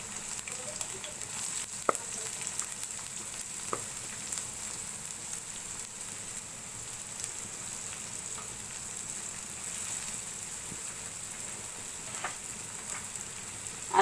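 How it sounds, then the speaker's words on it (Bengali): Cumin seeds and onions fry in hot oil in a kadai for a rui fish curry, with a soft, steady sizzle and scattered small pops and clicks. "তেলটা একটু হালকা গরম হয়ে গেছে, এখন দিয়ে দিচ্ছি আনাম জিরা। জিরার থেকে একটা গ্রান ছড়ায় যখন আসবে তখন এখানে দিয়ে দিচ্ছি পেঁয়াজ।"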